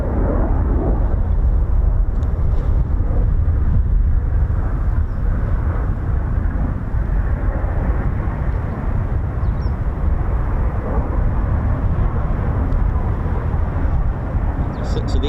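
A Eurofighter Typhoon jet doing a touch-and-go at RAF Coningsby on a grey morning gives a steady, heavy roar that fills the whole stretch, broad and rumbling with no break.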